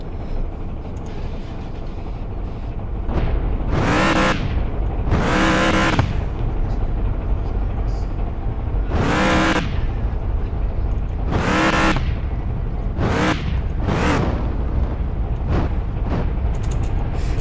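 A sports car's engine roars through a race, with a steady loud drone broken by repeated sharp surging revs, several in quick succession.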